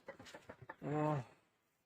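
A few short clucks from a chicken, then a longer drawn-out squawk, close by, with a quiet pause after.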